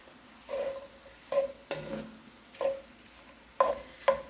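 Ground turkey for spaghetti with zucchini cooks in a pan, soft sizzling under several close scrapes and clinks of a utensil stirring against the pan at irregular intervals.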